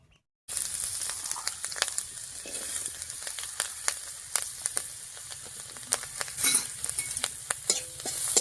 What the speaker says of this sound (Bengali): এবার এই সামান্য একটু তেলের মধ্যেই দিয়ে দিচ্ছি আদা কুচি, রসুন কুচি আর হচ্ছে লঙ্কা কুচি।